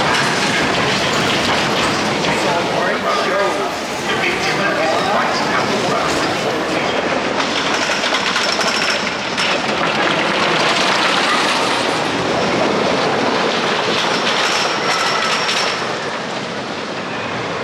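A Big Dipper roller coaster train at Blackpool Pleasure Beach runs along its track with a loud, continuous rumble and clattering wheels throughout, with no talk over it.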